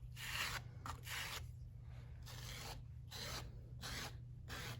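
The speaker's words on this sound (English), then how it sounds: "Now when you get a bunch of goo on your scraper, just get rid of it." Clay slip and goo are scraped off a pottery scraper tool in several rough, rasping back-and-forth strokes with short pauses between them. The sound is close and fairly quiet, with a low steady hum underneath.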